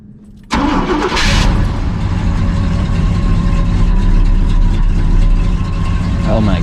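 An RV engine cranks briefly after a quiet moment, then catches and settles into a loud, steady rumbling idle close by, with a voice briefly heard over it.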